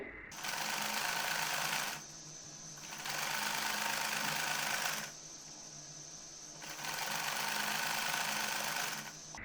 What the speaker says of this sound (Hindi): इसी तरह से दूसरी साइड पर भी सिलाई लगा लेंगे।